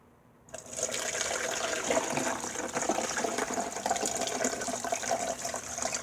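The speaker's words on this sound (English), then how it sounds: "so I pour half the tea in," Herbal sleep tea poured into a bottle, starting abruptly after a brief quiet moment and then running as a steady close gushing trickle of liquid with no talking.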